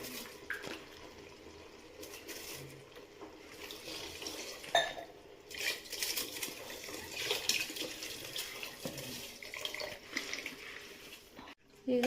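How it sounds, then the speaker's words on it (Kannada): Water poured into a pot of soaked rice for mushroom biryani, a steady faint splashing stream with small clinks and drips, close and continuous. "ಈಗ ಅಕ್ಕಿ ನೀರೆಲ್ಲ ಹಾಕಾಗಿದೆ."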